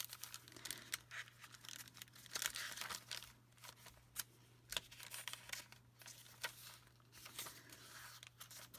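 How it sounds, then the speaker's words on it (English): Close, quiet crinkling of a crinkly bag being handled, with irregular crackles and rustles arriving in small bursts over a soft steady hum. "Kind of that crinkly bag. I love the way that sounds."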